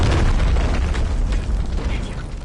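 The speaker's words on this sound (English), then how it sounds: "Hostiles launched a cruise missile." A cruise missile explosion in Modern Warfare 3, a loud, sustained, rumbling blast that fills the whole clip with dense low boom and crackling debris.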